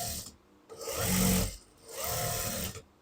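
A sewing machine stitching fabric in two steady runs of whirring mechanical rattle, close by, with a short pause between them and no talk.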